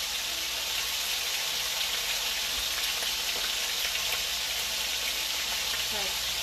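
Meat sauce for spaghetti sizzles steadily in a frying pan while being stirred and mixed, a close, even crackling hiss with faint scraping throughout.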